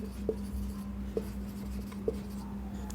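A marker taps out three spaced strokes on a board during a computer architecture lesson. The strokes are brief and moderately loud, and a steady low electrical hum runs underneath them.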